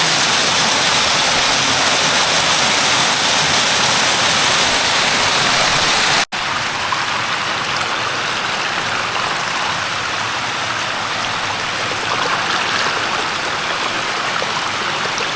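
A waterfall and stream in Thailand pour over rocks, a loud, constant broadband rush of water close by, with a momentary break partway through.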